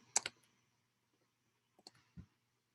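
Sparse clicks of typing on a computer keyboard at a MATLAB session, a quick double tap near the start, then after a pause a few more scattered keystrokes, faint and close with no talk.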